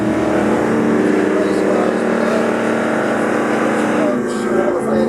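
A drag car launches down the strip at Manston Raceway, its loud sustained engine roar holding steady over the whole stretch as the car pulls away.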